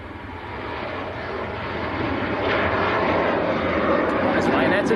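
A Ryanair jet airliner rotating on takeoff at Manchester Airport, a broad steady engine roar that swells gradually and fills the clip at moderate distance, with a voice talking over it.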